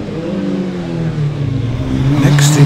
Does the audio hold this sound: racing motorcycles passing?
yes